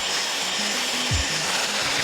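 A handheld hair dryer blows steadily through a home blowout on hair that is almost dry, a close, continuous broadband rush of air with a faint low motor hum and a brief bump partway through.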